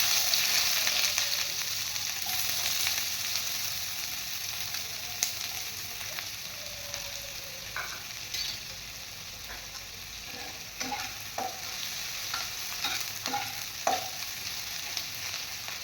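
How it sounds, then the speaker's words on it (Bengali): Thinly sliced onions for beresta fry in mustard oil in a hot kadai, hissing in a continuous close sizzle with a few sharp crackles and light stirring clicks toward the end, and no talking. "এবার আমি বেরেস্তা ভাজার জন্য দিয়ে দেবো"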